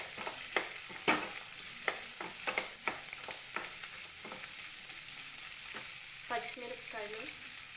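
Onions and garlic browning in oil give a constant sizzle, broken by a string of sharp scrapes and clicks from a stirring spoon against the pan, with a brief clatter near the end.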